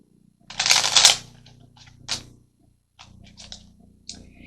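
Tarot cards being drawn and handled, with a loud burst of shuffling early on followed by a few softer flicks and taps of cards spaced out across the rest, close and without any talking.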